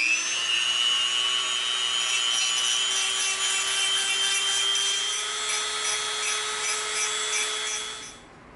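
Steady, close grinding hiss of a hole-cutting tool for EVA foam being sharpened on a powered sharpener, running evenly for about eight seconds before winding down at the end, with no talk.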